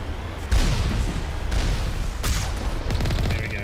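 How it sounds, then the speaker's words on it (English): Rockets and gunfire in the Mass Effect 1 Legendary video game, a dense, loud fusillade of rapid shots and booming blasts filling the whole stretch with no pause. "they are shooting a lot of rockets down this way"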